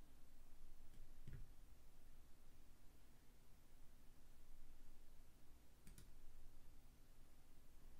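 A computer mouse clicks twice while working in Canva, each click soft and isolated against a low, steady background hum.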